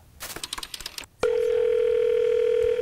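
A telephone dial tone while a call is placed: a brief burst of clicks and noise, then a loud, steady continuous tone that holds to the end.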